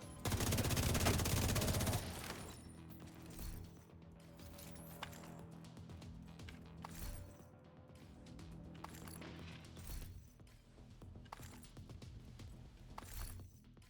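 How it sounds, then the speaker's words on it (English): Rapid gunfire erupts in a dense, loud burst aimed at the player in a video game, then drops to scattered fainter shots and clicks over a low game background. "Who are you and why are you shooting me?"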